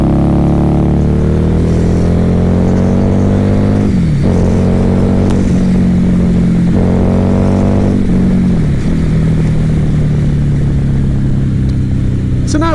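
A 2016 Harley-Davidson Night Rod engine roars loudly and continuously while riding, climbing through the revs with two dips at gear changes and a steady low rumble under wind noise.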